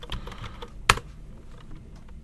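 Typing on a computer keyboard produces one sharp, close keystroke and a few faint, scattered clicks in a quiet room.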